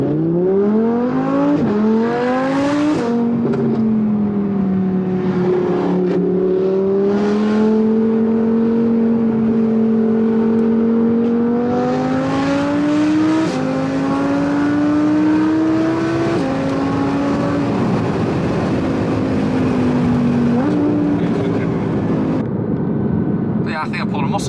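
Audi R8 V10 Plus and McLaren 675LT engines climbing through the revs under hard acceleration, a loud rising drone with gear changes, continuous for the whole stretch with voices over it.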